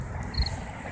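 Grasshopper in a bush outdoors gives one short, thin high-pitched chirp mid-clip, faint above a steady low background rumble, with no voices.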